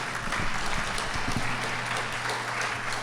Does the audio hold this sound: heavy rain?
no